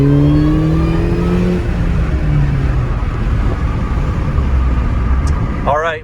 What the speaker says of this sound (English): I'll give you a pull in second gear.